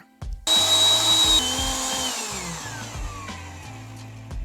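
A blender whirs up to blend a daiquiri with crushed ice. A loud motor whine kicks in and slides down in pitch while ice rattles and thumps rhythmically underneath, steady and close with no voices.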